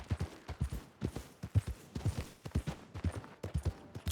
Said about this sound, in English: I hope it's not going to sound weird that we call our horse Link